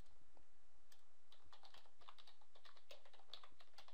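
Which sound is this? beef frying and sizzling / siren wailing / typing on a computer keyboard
typing on a computer keyboard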